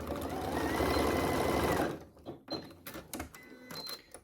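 Sewing machine running a straight stitch down the side of an elastic band for shorts, a dense steady whir for about two seconds that stops abruptly, followed by faint handling clicks and rustles.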